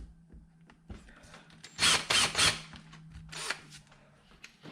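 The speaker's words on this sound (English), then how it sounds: "so we'll just drill it out slightly" Small drill bit boring shallow screw holes into a wooden Shaker side table under restoration in a workshop, with a few short loud bursts of drilling amid quieter handling noise and a steady low hum.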